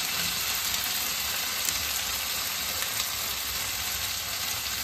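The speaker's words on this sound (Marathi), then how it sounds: "आणि ऑनियन गोल्डन ब्राऊन होत नाही तोपर्यंत त्याला सॉते करून घेऊयात." Chopped onion and green chilli sauté in a hot pan over high flame, giving a steady, close, even sizzle that holds without break and has no talk over it.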